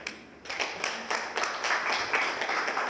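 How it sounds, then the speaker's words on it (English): Conference audience applauding in a hall, a steady patter of many hands clapping that starts after a brief pause and carries on evenly at moderate loudness. "All right, round of applause."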